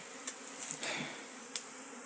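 Honey bees buzzing during a hive removal as combs and frames are moved into a box, a faint steady drone with a few sharper close passes, no talking.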